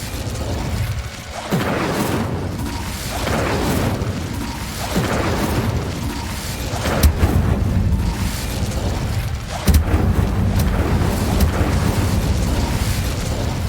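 Incendio fire spell cast in Hogwarts Legacy: a run of loud whooshing, booming bursts roughly every two seconds over a steady low rumble, with no talking.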